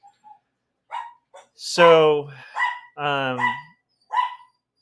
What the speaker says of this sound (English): I'm not sure what the dogs are barking at.